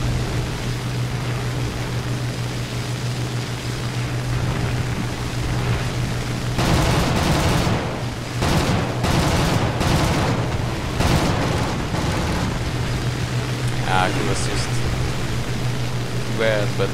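A Messerschmitt Bf109 G-2/trop fires its guns in several rapid bursts over a steady droning engine. The bursts are loud and close, with short gaps between them.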